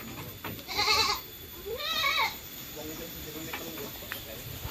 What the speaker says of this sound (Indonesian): Ini jarang ada kambing warna merah kawan